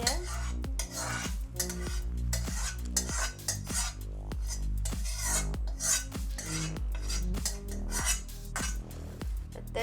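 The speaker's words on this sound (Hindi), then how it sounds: "तो दर्शकों अब हम इसे बाउल में निकाल ले रहे हैं।" A metal spoon scraping and clinking against a pan while cooked aloo posto is served into a bowl, rhythmic repeated scrapes and taps close up, with no talking.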